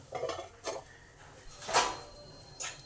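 A metal lid on a pot of papaya and potato curry clinks and scrapes a few times, with a louder ringing clatter midway as it is lifted, close and otherwise quiet.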